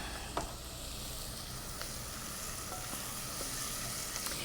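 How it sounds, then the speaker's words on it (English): Vegetables for sweet potato soup sauté in a pan with a steady, soft sizzle and a few faint clicks of stirring, quiet and close with no voices. "So let's see how our sauteing is doing."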